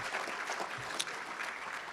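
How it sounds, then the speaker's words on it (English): Audience applause fills a hall at the Massachusetts Broadcasters Hall of Fame 2024 ceremony, a steady, dense wash of clapping from a crowd that stays even and full for about two seconds. "Can we give him a round of applause?"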